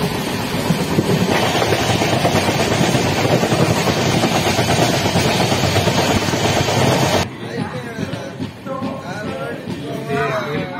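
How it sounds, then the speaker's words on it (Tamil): Pandian Express train departing Madurai: a dense, loud rushing rumble of the moving train for about seven seconds, then a quieter stretch with voices talking over the lingering rail noise. "ட்ரெயின் கிளம்பிச்சு."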